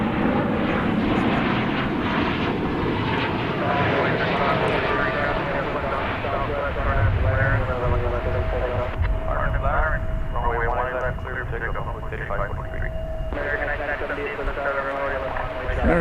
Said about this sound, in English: American 3184, 737-800.